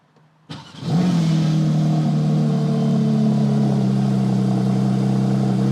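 A Porsche 911 GT3 Touring cold-starts from inside the cabin: a short starter whir, then the engine catches with a sharp rev flare and settles into a loud, steady, high idle that fills the rest of the clip, close and with no talking.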